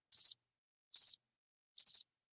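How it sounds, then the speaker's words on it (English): Cricket chirping sound effect, three evenly spaced bursts of rapid high trills, each about a fifth of a second, separated by silence, clean and alone. "Maybe the crickets will remind me."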